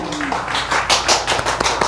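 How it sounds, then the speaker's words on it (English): A man claps for himself, a short burst of hand claps at close range with a few sharp slaps and faint voices in the background. "I'll clap for myself."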